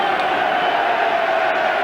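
A football crowd at Southampton barracking a player, a steady roar of massed voices and jeers, distant and continuous with no break.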